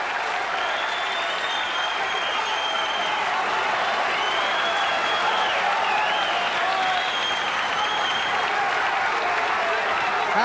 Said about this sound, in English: an ovation, and how thoroughly deserved it has been.